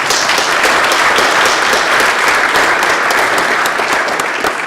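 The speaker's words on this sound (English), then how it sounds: "give Dr. Bass a round of applause" A large audience at a symposium claps continuously and loudly for Dr. Bass, a dense, even wash of applause with no voices on top.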